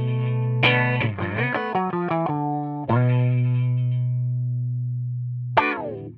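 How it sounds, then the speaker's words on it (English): EarthQuaker Devices Spatial Delivery pedal's sample-and-hold filter on a sustained instrument note, choppy stepped filter jumps chopping the tone into bright warbling fragments, with a fresh attack partway through and another near the end. "the Sample and Hold controlled filter is one of my favorite sounds of all time."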